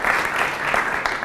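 Audience applause at a Craig Morris master class makes a brief, dense wash of many clapping hands, steady and moderately loud throughout the short burst.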